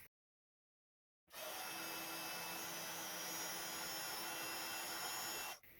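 A heat embossing tool blows hot air onto white embossed stamping on blue cardstock. After a second of silence it starts as a steady, loud, unbroken whirring hiss, then cuts off near the end.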